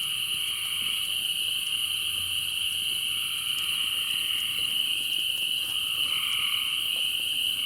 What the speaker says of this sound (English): The frogs and the crickets and everything in the background.